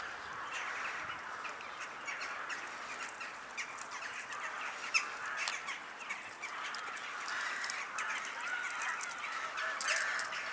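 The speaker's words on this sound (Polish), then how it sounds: "Kaczki się bawią." Ducks honking and quacking intermittently over a faint background hiss in Tarnów, Poland, in cold weather, fairly distant, with no talking.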